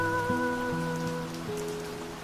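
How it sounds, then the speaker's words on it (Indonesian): Rain patters steadily underneath faint sustained tonal notes, a constant soft wash with no voices. "Tampaknya hujan tak akan cepat usai."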